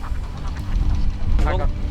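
Ducks on a farm of about 600 ducks quack in a brief burst over a low rumbling background, with a voice talking through part of it.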